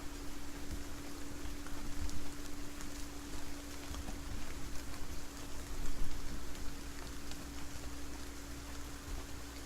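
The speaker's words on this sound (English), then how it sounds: "This bit of rain looks better than the beach rain that we had earlier." Rain falling in the Saurian video game, a dense steady hiss of drops with a faint constant hum underneath, loud and continuous throughout.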